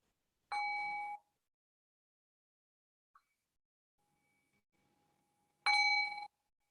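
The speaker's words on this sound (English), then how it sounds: "I'll cue that by ringing the bell 3 times." A meditation bell rings to close a meditation session, with two clear, resonant strikes about five seconds apart, each ringing out in near silence.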